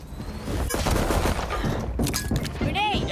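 Rifle gunfire in a competitive Valorant esports match: a sharp crack of shots, then a scattered burst of rapid fire, with a voice talking over the action.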